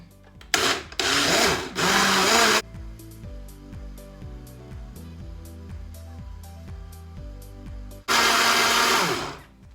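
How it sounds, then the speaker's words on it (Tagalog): A blender whirs loudly in two short bursts, with a quieter stretch of clinks and handling between them and a final burst at the end, blending a chilled homemade drink for a child. "At i-blend ko lang siya dito."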